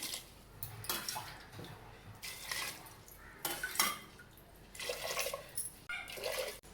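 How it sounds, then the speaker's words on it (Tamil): Water splashes and pours in bursts into a metal pot, four glasses' worth for home-style vegetable soup, with clinking of cookware between pours, close by. "அதுக்கு நாலு கிளாஸ் தண்ணி வைக்கணும்"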